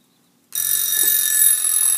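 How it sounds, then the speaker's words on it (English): A Europa folding mechanical alarm clock bursts into a continuous, bright metallic bell ring that starts abruptly after a moment of silence and keeps going steadily at close range. "And here is what the alarm sounds like"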